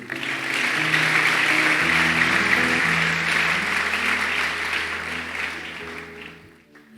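Church congregation clapping and cheering together in praise of God, a sustained dense wash of applause lasting several seconds over a low organ or keyboard drone, fading out at the end.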